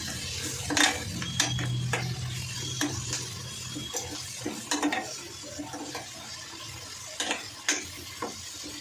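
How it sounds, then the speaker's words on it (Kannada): Ingredients with coriander powder get stirred in a hot cooking pan, a metal spoon scraping and knocking against it in irregular strokes over a soft continuous sizzle. "ಇದಿಷ್ಟನ್ನು ಹಾಕೊಂಡು ಮಿಕ್ಸ್ ಮಾಡ್ಕೊಳ್ತೀನಿ."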